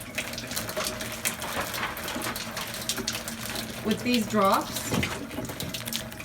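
Water runs steadily from a K8 water ionizer machine into a small container, a constant gushing stream under a speaker's voice, with brief higher pouring tones near the end.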